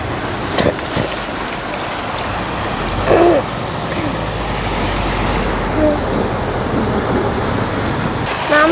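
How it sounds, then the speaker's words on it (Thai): Storm floodwater surging and rushing like sea waves during a storm in Chaiyaphum, Thailand, heard as a steady loud broadband roar throughout with a few brief splashes and faint voices. "น้ำสูงนะครับ น้ำก็มาอย่างกับคลื่นทะเล"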